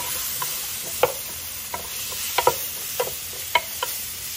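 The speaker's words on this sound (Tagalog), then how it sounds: "Dagdag na natin ang ating zucchini." Zucchini being stirred into a pot of misua soup with shrimp, a soft simmering sizzle under scattered light clinks and scrapes of a utensil against the pot, about a dozen quiet taps spread irregularly.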